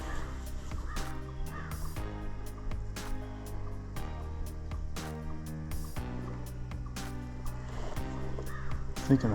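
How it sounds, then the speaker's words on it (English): Crows in the woods caw over and over in harsh, repeated bursts, coming from a moderate distance in an otherwise quiet outdoor setting. "I think them crows are telling us that deer's right there"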